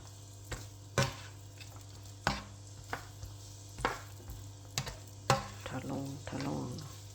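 Onion and eggplant frying in a pan with a soft, steady sizzle, broken by several sharp clacks of a utensil against the pan and stirring scrapes, quiet and close.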